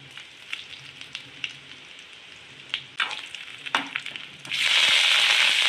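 Oil sizzles steadily with crackles and pops as dried red chillies, garlic, urad dal, mustard seeds, cumin, curry leaves and asafoetida hit the pan, swelling into a loud, dense hiss near the end.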